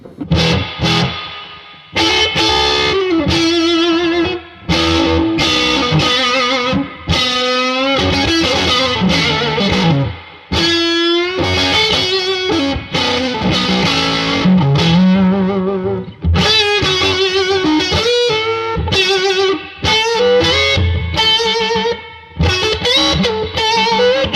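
A distorted electric guitar plays chords and bending lead lines through a 1990 Fender Custom Vibrolux Reverb amp with heavy reverb, a washy, lingering echo trailing each phrase.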